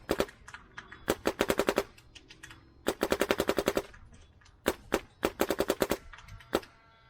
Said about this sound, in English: Love how this gun shoots real good.